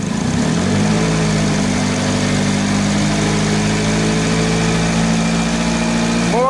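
A 2009 Saturn Aura engine runs steadily and loudly, holding a raised, revving drone with a constant strong hum throughout, ending with a brief rising whine.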